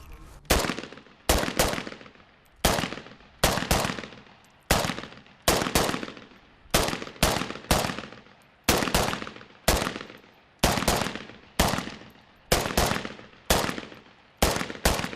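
Pistol shots fired at targets on a police shooting range, a long series of sharp, loud, close cracks, some single and some in quick pairs, each with a short echoing decay.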